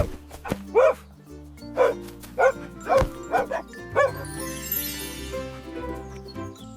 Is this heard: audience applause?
no